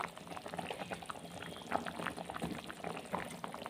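Potato chunks and onion pieces simmer in a covered pot, giving a soft, continuous bubbling with small liquid pops, fairly quiet and close, with no one talking.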